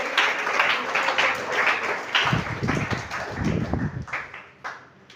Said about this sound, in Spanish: ese aplauso fuerte para el Señor